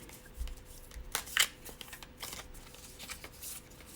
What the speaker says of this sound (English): So much shuffling with these guys today.